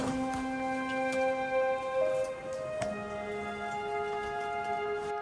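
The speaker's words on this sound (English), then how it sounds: "departing in the rain" Rain falling on a mountain trail of the Tour du Mont Blanc near Col de la Seigne, a soft steady patter with scattered sharper drops under a faint tonal hum.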